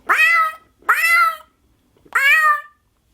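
A person imitates a cat with three drawn-out, convincing meows in a close, loud voice, evenly spaced with short silent gaps between them.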